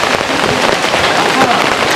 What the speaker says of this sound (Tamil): அதனால கொஞ்சம் மழை இருக்கட்டுமே, கொஞ்சம் குளிரா இருக்கட்டுமே